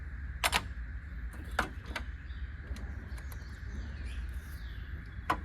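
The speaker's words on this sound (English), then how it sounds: "The birds cussing me out, train yards going in the background." Birds calling outdoors near train yards, a few sharp chirps and calls scattered over a low steady rumble of distant yard activity.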